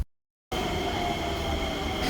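A Singapore MRT train ride between Woodlands and Bugis: a steady, loud rumbling roar of the carriage in motion that starts after a brief silence and holds without a break.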